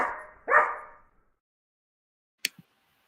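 A dog gives two short barks close together, loud and near, followed by silence and then a faint brief double yip.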